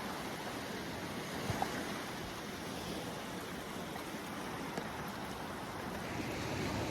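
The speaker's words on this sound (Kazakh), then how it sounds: "Теңізде толқын жаңағы накат дейміз ғой, сол бар." Sea waves surge around a small fishing boat out at sea in light south-easterly wind, a steady, continuous wash of surf with some wind noise on the microphone and no voices.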